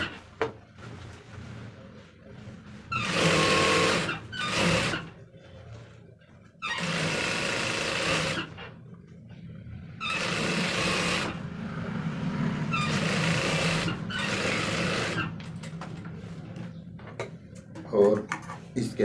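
An electric sewing machine stitches a pant belt in short whirring bursts of a few seconds each, separated by pauses, while someone talks quietly between and over the runs.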